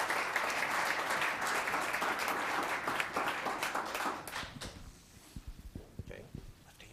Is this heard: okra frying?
no